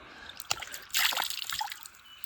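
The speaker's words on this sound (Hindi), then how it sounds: "पाँव भी पानी में डाले हुए हैं, फुल स्टाइल से मुंह धो रहे हैं।" Someone washes their face outdoors with cold water while standing with feet in it, giving close splashing and sloshing that swells after a soft drip and continues in uneven handfuls.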